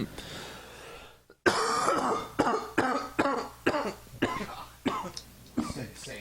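A close, loud fit of harsh coughing: around eight rough bursts in quick, uneven succession after a brief silence.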